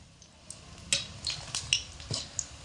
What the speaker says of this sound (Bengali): অনবরত এইভাবে করে নাড়াচাড়া করে একটু লাল করে ভেজে নিতে হবে